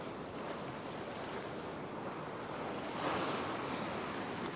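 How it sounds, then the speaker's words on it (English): Ocean waves surging and breaking on a rocky shoreline during winter beach fishing, a steady broad wash of surf with a louder surge swelling near the end, plus some wind noise on the microphone. "These waves have got a fair bit of force."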